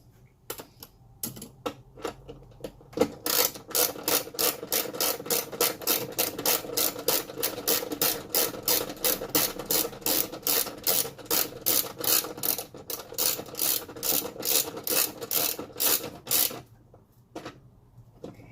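A ratchet fitted with a 10mm socket tightens the valve cover bolts on a 2014 Toyota Tacoma PreRunner V6. Rapid, steady clicks run close by for about fifteen seconds with no talking, then stop.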